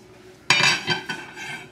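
Utensils clink and scrape against a bowl while brown rice is mixed with dried cranberries, toasted almonds, scallions and garbanzo beans, one sharp clatter followed by lighter knocks, close and alone.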